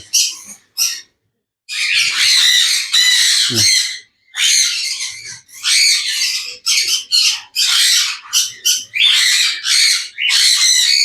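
Pigeons being dewormed with a syringe let out loud, close squawks, rapid harsh bursts repeating with brief gaps of silence between them.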